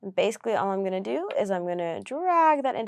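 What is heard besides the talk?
None of the usual background noises is heard.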